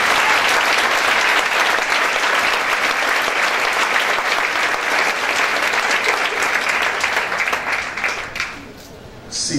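Loud, sustained applause from a church congregation during a Spanish-language service, dense clapping with crowd voices mixed in, holding strong for most of the stretch before dropping off sharply near the end.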